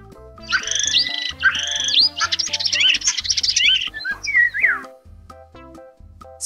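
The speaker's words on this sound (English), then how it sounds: "Starling." A starling sings a rapid, varied medley of whistles, chirps and trills, fairly loud and close, over a soft steady background tone, with no talking.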